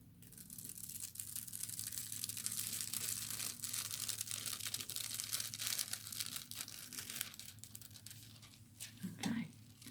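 Metallic foil being peeled back from a card embossed with a finely lined folder, a soft, close crinkling and tearing rustle running throughout, with a brief voice near the end.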